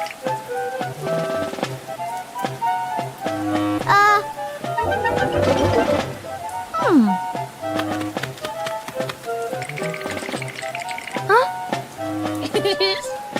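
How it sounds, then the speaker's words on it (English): Steady rain patters beneath bright cartoon music in a Peppa Pig animation, with occasional sound effects dotted through. "It's a rainy morning, and Peppa brings her favorite pink umbrella."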